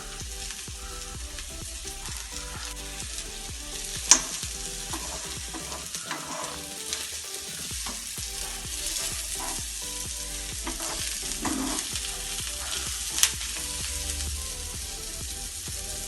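Onions sautéing in a pan with chicken masala, a continuous soft sizzle with occasional stirring scrapes and a couple of sharp utensil taps, heard alone.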